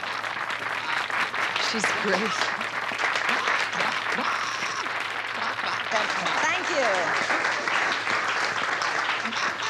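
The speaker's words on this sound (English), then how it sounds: "Let's have a big round of applause." Audience applause from a crowd during a staged hypnosis show in a TV drama, a steady dense wash of clapping lasting throughout, with voices speaking over it.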